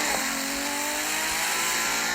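Small car's engine revving hard as it accelerates, a loud, close, steady roar with rising harmonic tones heard from inside the cabin.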